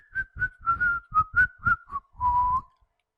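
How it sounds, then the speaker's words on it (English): Someone whistles a short tune close by, about eight distinct notes in a quick rhythm, ending on one longer held note, clear against silence with no talk. "I can't whistle. You just did."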